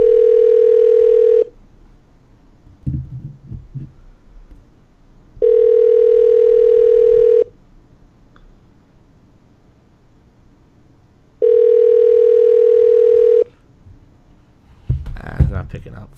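A telephone ringback tone heard down the line during a prank call, three evenly spaced two-second rings separated by long pauses, with brief bursts of nearby talking between them.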